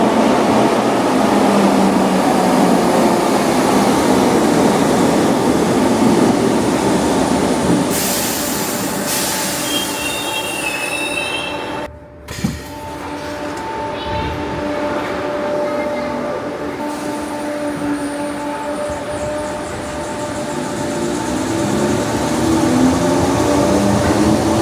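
A Merseyrail train arrives at the Wirral line platform at Moorfields, an underground station, with a steady rumble of wheels and motors rising and falling over about 25 seconds and a short dip midway.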